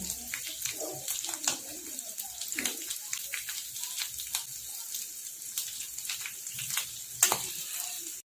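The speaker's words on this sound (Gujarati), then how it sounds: "થોડી વાર આપણે એને ફ્રાય થવા દઈશું" Potato pieces frying in hot oil give a continuous hiss and crackle, with scattered louder pops, heard close and steady throughout.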